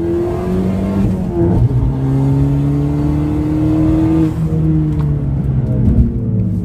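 A car at full throttle on a racing circuit, its engine note climbing steadily and loudly, easing briefly and then rising again, close and continuous with no talking.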